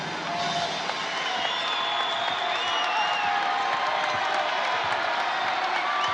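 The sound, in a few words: basketball arena crowd cheering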